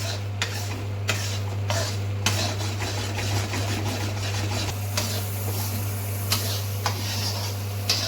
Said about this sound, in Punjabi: ਬੇਸਨ ਆਪਣਾ ਲਗਭਗ ਭੁੰਨ ਗਿਆ